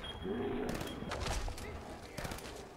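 Gunfire in the video game Fallout 4: a few sharp shots burst out around the middle and again near the end, mixed with game ambience and a voice talking over it.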